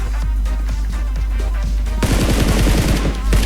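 Rapid gunfire rings out in a PUBG Mobile match while a bot is shot down, sparse single shots at first, then a dense, loud burst of automatic fire in the second half.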